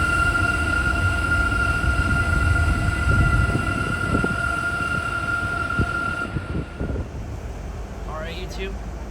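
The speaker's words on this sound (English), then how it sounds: "Here's the TRE coming, and they're using an old Northstar set for this time." A four-car TRE commuter train made up of an old Northstar set rolls past at Fort Worth Central, a steady loud rumble with a horn-like tone that fades partway through, with a voice talking over it.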